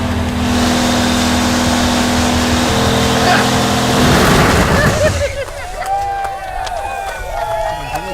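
A Chevrolet Camaro beater car doing a long tire burnout: loud, sustained engine roar and tire noise for about five seconds, then it drops away as a crowd shouts and cheers over the fading rumble.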